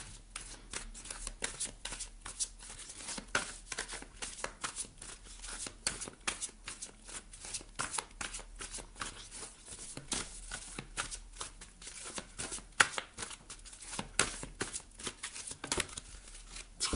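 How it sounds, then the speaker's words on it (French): Tarot cards are shuffled by hand in quick, dense riffling bursts that run continuously and close-up, with no voice over them. "on ira piocher quelques petites cartes conseils"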